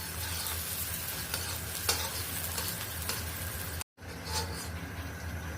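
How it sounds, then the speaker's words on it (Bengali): Chopped onions and torn bay leaves fry in a pan with a steady, close hiss of sizzling oil, broken by light stirring scrapes and one brief silent gap. "পেঁয়াজটাকে আমি একটু লাল করে ভেজে নিব।"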